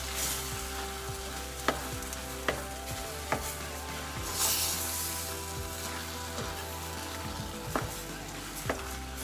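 Medicated ghee pav bhaji with potato sizzles in a pan under a steady frying hiss, with intermittent spoon taps and scrapes as it is mixed, close and moderately loud.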